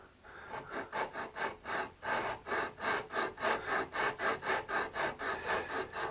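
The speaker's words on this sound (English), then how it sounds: "the little flag on the Dremel, adds a lot of noise" A high-speed Dremel rotary tool spinning around 35,000 RPM while carving a guitar headstock inlay, a steady pulsing buzz with rhythmic rasping surges as the bit works the wood, close and continuous.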